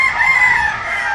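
A rooster crows once, close and clear, in a single sustained call with almost no other sound around it.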